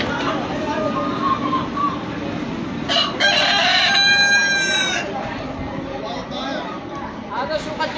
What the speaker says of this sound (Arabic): هذا سوق الدجاج